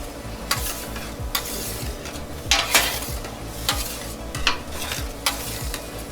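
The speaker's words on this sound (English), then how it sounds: "I just like move the eggs around because they're going to cook very quickly" Duck eggs scrambling in a hot pan, a steady sizzle broken by repeated scraping and tapping strokes of a utensil pushing the eggs around, close and loud, no voices.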